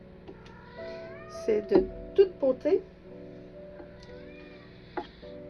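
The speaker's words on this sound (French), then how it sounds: "Et nous avons le chat qui miaule derrière." A cat meows several times in quick succession close by, short rising cries bunched together, with someone speaking French softly over a steady low background hum.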